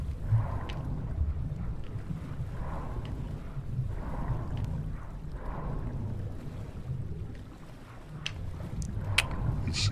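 In the video game Far: Changing Tides, a boat's engine runs with a low, steady rumble and rhythmic chugging pulses, alongside wind and water wash, fairly loud and continuous.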